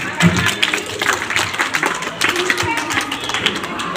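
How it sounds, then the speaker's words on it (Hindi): Children clap at a coaching institute gathering, a lively, uneven round of claps from a group lasting about four seconds, with someone talking through it. "एक बार फिर से जोरदार तालियां इन सभी बच्चों के लिए।"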